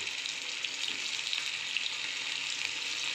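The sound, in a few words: paneer shallow frying in oil in a pan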